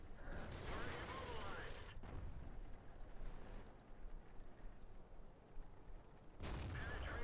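A tank destroyer's gun fires in a tank video game, with a sharp, loud blast at the start, a second heavy shot about two seconds later with a fading rumble, and another loud burst near the end.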